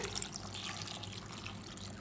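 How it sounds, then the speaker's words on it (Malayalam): Half a glass of water is poured into a Kerala-style cucumber curry in a pot, giving a steady close splashing and trickling for about two seconds with no talking. "അപ്പോൾ ഞാൻ അര ഗ്ലാസ് വെള്ളവും കൂടി ഒഴിച്ചിട്ട്"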